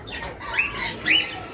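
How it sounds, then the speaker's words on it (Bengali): A pair of caged cockatiels lets out two shrill, rising squawks about half a second apart, close by over a low, steady background hum. "এখানে দেখতেছেন আরো একটা চমৎকার পেয়ার ককাটেল"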